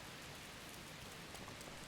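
Night rain in Zelda Breath of the Wild, a faint, even hiss of falling rain with no breaks, soft and constant with no voices.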